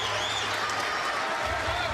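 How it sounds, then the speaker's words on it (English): A basketball crowd at an Iowa versus Rutgers game gives a standing ovation, a dense, continuous wash of applause and cheering that fills the whole moment. "Crowd gives them a standing O."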